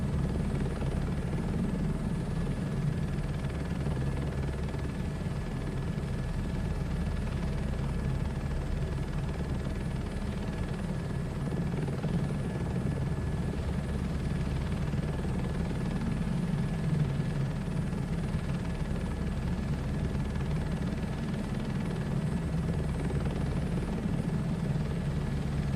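A helicopter in Microsoft Flight Simulator 2024 drones steadily for the whole stretch, a constant low rotor rumble and engine whine with no speech.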